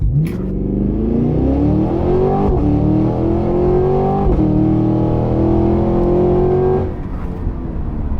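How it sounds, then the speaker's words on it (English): A 2023 Cadillac Escalade-V's supercharged V8 roars loudly and up close as it launches from a brake hold, its rising pitch climbing through upshifts before easing off near the end. "we're going to put our foot on the brake. And again, it holds at about 1500 RPM."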